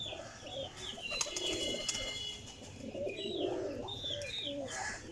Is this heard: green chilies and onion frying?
no